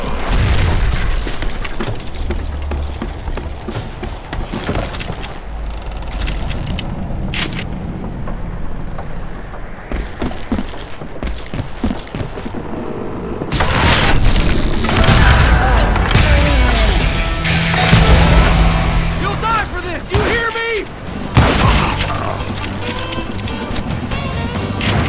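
Dynamite blasts in Call of Juarez: Gunslinger, heavy booms and rumbling debris over windy game ambience, louder in the second half, with some faint in-game voices in the mix.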